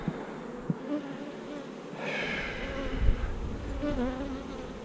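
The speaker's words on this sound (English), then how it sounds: "I'm going to suck up all these bees." Honey bees buzz at an opened hive during a winter beekeeping job, a steady droning hum with a few sharper bursts and thumps, fairly close and continuous with no talking.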